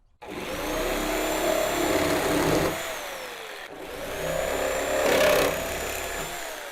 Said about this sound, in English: Now let's go ahead, let's cut some PVC products.